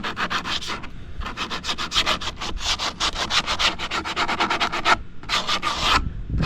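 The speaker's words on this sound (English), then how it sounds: "Get my sander, just sand the corner of it." A handheld sander works the corner of a wooden kitchen shelf, giving a loud, steady run of rapid rasping strokes that continues with only brief pauses.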